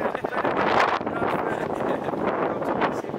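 Loud, blustery cold wind buffeting the microphone in rough gusts for a few seconds, with no clear voices.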